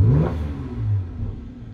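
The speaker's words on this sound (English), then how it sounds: "Should we do one more rev?" A Mercedes C43 AMG engine revs once in an engine bay, a short, close, deep surge that swells and then settles back toward idle.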